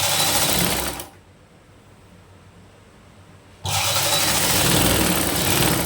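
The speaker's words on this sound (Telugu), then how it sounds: "ఇలా కొంచెం కొంచెం స్టిచ్ చేసుకుంటూ సరి చేసుకుంటూ స్టిచ్ చేసుకోవాలి" A sewing machine stitches cross pieces onto a garment neck band, running in loud, close bursts of rapid whirring with a quiet pause in the middle before the motor starts up again, and no talking.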